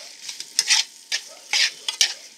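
Salted food for a roast beef salad is stirred in a hot pan, giving uneven scraping strokes over a steady sizzle, close and fairly loud with no talking.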